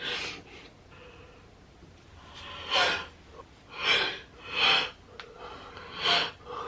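A series of breathy, drawn-out exhalations, several in a row at a steady pace, close by and with no talking.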